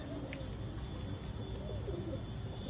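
A Saharanpuri pigeon, a male, gives soft, low rolling coos that sit close and moderately loud over a steady background hum.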